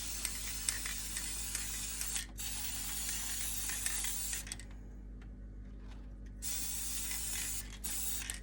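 A spray can hisses onto a terrain model in two long sustained bursts separated by a short pause, fairly close and even, with faint mechanical clicks in between.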